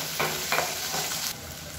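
Onion and garlic sautéing with rock salt in a hot pan give a steady close sizzle, with a few louder spatula-stirring swishes across a short stretch.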